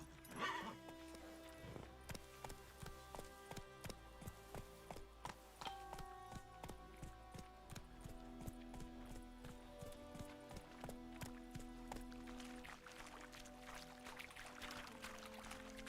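Roach, a horse in The Witcher 3, gallops with steady rhythmic hoofbeats under a music score, with a brief whinny near the start.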